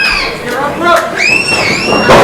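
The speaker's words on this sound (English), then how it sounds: "And now the screeching from the fans, Tony." High, shrill screeching from wrestling fans at a live match, rising and sliding in pitch over crowd noise, loud and close for about two seconds.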